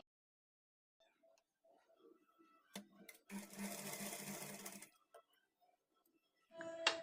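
A domestic sewing machine stitching piping onto a blouse neckline, running in one sustained burst of about two seconds after a few scattered clicks, then a brief restart at the end; moderately faint, no talking.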